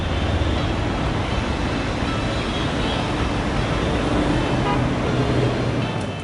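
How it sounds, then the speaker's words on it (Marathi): Dense daytime city traffic in Mumbai roars continuously, a broad wash of engine and road noise with occasional faint horn toots mixed in, loud and unbroken from start to finish. "मुंबईतला नेहमीचाच वाहतुकीने खचाखच भरलेला दिवस"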